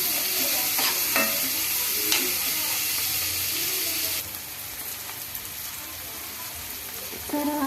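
Onions, small tomatoes and curry leaves fry in a tempering pan with a continuous close sizzle, punctuated by stirring scrapes and clinks, easing slightly after a few seconds.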